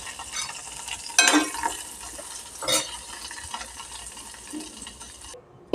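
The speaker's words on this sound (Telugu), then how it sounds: "తర్వాత వేడి నూనెలో కరివేపాకు వేసుకోండి." Curry leaves dropped into hot oil, a couple of sharp crackling bursts rising over a soft continuous sizzle, then the frying fades toward quiet.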